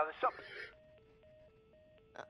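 Phone tones from The Last of Us Part I: a single steady tone that steps between two pitches in a regular repeating pattern, like a call dialing or ringing, after a brief burst of speech at the start.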